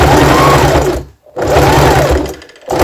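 Sewing machine stitching over pins in two steady runs of close, loud mechanical whirring, each broken by a short pause.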